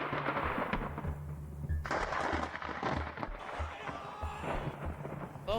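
Thunder from a lightning barrage during a tornado storm chase rumbles in repeated loud booms and cracks, with low rolling echoes and rain noise filling the gaps.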